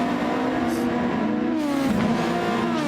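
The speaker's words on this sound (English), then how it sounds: "Toyota, this is the Toyota car." A Toyota GR Cup race car engine at Fuji Speedway, loud and close, with a steady, strongly tonal whine that rises and falls as the revs shift.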